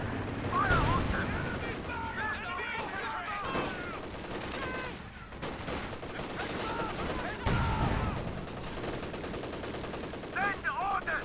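Soldiers' gunfire in a strategy video game crackles as rattling machine-gun bursts and scattered single shots over battlefield noise, mixed with shouted in-game voices and chirpy tonal sound effects.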